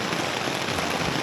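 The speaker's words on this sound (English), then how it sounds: "It's raining quite a bit now, and it's supposed to be raining quite heavily today" Steady rain falls during a Fjällräven Classic hike in Sweden, a dense, even hiss of drops landing on nearby surfaces, moderately loud and continuous with no voices.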